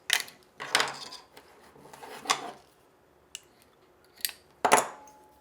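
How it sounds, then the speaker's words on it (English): Wire cutters snip floral paddle wire for a ribbon bow, giving several short, sharp metallic clicks spaced apart, close and fairly quiet, with no talking. "cut a piece of floral wire, and this is just paddle wire"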